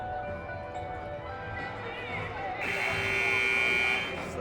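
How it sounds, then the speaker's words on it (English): At a girls varsity basketball game, a loud electronic buzzer sounds for about a second and a half before the fourth quarter, blaring over the gym's crowd murmur while a voice talks. "So first buzzer as we're about to start the fourth quarter here."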